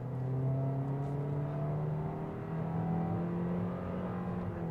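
A 2022 Toyota Corolla Cross XLE AWD accelerates uphill under full throttle, its engine drone rising in smooth, sustained tones heard from inside the car, steady and moderately loud with no talking.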